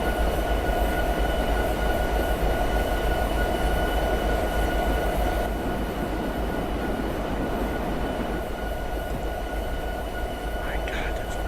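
A long diesel coal train rumbles steadily in Train Simulator 2017, a continuous deep engine drone with faint wheel tones, loud and close throughout.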